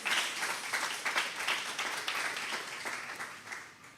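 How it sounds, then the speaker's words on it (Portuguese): A church congregation applauds in sustained, dense clapping that fills the room evenly for the whole stretch, staying moderately loud without letting up. "Pode aplaudir o Senhor."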